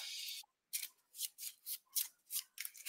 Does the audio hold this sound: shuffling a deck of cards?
yes